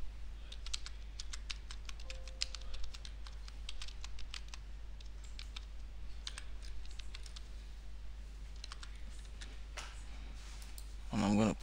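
A password typed on a computer keyboard: a quiet, uneven run of light key clicks lasting about ten seconds, close and alone, ending with a brief louder rustle.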